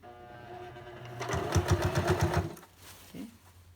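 A sewing machine stitches fabric for a skirt at a 3 stitch length, a quiet hum building into a loud, rapid, steady burst of needle chatter for about a second before it slows and stops.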